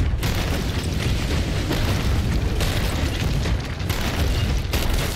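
Enemy ship cannons firing in a pirate video game, a dense run of deep, rumbling booms that stays loud and sustained throughout without pause.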